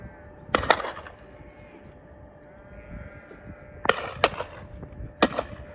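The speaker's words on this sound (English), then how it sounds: "I was a little surprised to hear a lot of gunfire." Shotguns fire at a clay pigeon shooting club in the Peak District, sharp cracks heard from a distance in a few short clusters of two or three shots over steady outdoor background noise.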